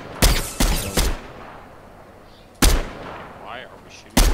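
Loud, close gunfire in an online shooter video game: a quick burst of three shots, then a pause, then two more spaced single shots.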